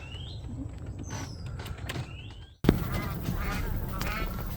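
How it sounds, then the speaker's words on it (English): Ducks and geese honk and quack intermittently near the road in Bangkok, heard from a moving vehicle over a constant low engine and road rumble that swells partway through. "showing you the ducks and the geese"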